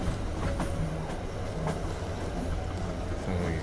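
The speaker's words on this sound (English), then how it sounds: "Smooth, fast-moving train." A smooth, fast-moving passenger train approaching Krakow, Poland: a loud, steady interior rumble with faint rhythmic wheel clicks and light squeaks running throughout, no speech.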